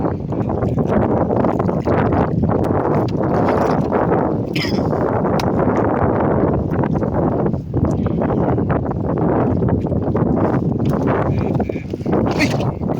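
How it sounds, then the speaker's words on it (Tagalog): Steady, loud seaside wind roars across the microphone throughout, a continuous broadband rush with gusty fluctuations and some faint rustling. "Biglang nag-ihip yung hangin."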